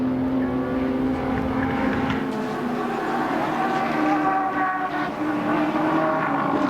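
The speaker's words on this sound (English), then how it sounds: "the Turbo 6, Nissan GTSR. Really wailing as it heads up the Motorcraft Hill towards BP Cutting." A Nissan GTSR turbo six race car wails up Motorcraft Hill toward BP Cutting during the 1989 Bathurst 1000, a loud, sustained engine drone holding steady the whole time with no talking.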